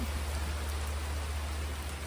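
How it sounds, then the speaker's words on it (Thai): Steady rain falls on rice fields and a banana plantation, a dense, even hiss of drops on surfaces with no voices, holding at a constant level throughout. "ดีใจค่ะวันนี้ฝนตก ฝนตกจนอกหัก"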